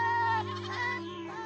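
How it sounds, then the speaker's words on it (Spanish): Several goats bleat loudly and close by, overlapping calls with a wavering, nasal tone that fill the moment without any talk. "estaban balando y corriendo emocionadas"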